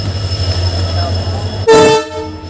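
A train pulls into the station at a festival, first a low rumble, then a loud horn blast that sounds briefly and fades.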